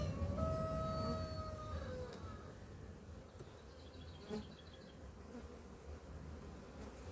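Honeybees buzz densely around open hive frames packed with brood in a strong colony. The hum is close and steady, with a few higher passing whines early on.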